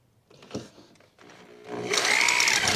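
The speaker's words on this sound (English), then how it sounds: "you want to drill slow." A drill bores slowly through material while working on brakes for a 1966 Chevrolet Impala, starting with a few uneven low grinding pulses before settling into a steadier, louder whirring hum, close by with no talk.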